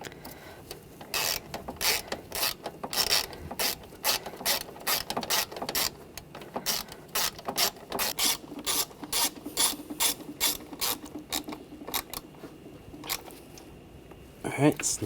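A ratchet tightens bracket screws underneath the 3.0L inline-six in a 2009-2013 BMW 328i xDrive, giving rapid close clicking in repeated bursts of strokes, with speech at times.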